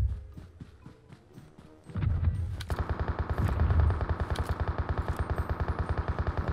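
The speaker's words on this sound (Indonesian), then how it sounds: "Mereka nembakin monster, guys." Automatic gunfire rattles in PUBG Mobile: scattered distant shots give way to a loud, steady rapid-fire burst of evenly spaced rounds that continues without pause, with no talking over it.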